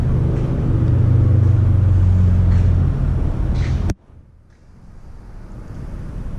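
A 1970 Porsche 911 T engine runs with a loud, close, throaty rumble, then cuts abruptly to a much quieter low murmur.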